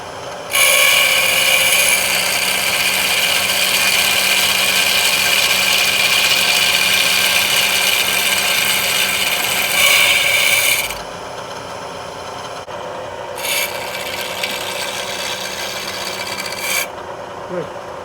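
A milling machine cuts through metal tubing: a loud, steady rasping grind runs for about ten seconds, then drops to a quieter whirr with a brief second burst of cutting near the end.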